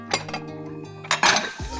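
Old ceramic dishes and plates, including a vegetable-patterned plate, clinking against each other in a series of bright knocks and rattles, close and fairly loud, with no talking.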